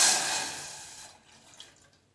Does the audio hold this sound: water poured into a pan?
yes